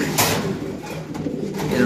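A low, throaty coo from a male fancy pigeon rumbles close by, with murmuring voices in the background.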